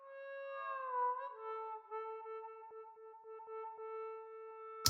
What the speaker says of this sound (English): this kind of little microphone that you hold in your hand with the harmonica, and I blow right through it.